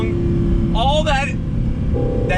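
A 2018 Audi R8 V10 Plus Spyder at full throttle, its engine a steady, loud low roar throughout with a rising tonal whine partway through, while a voice talks over it.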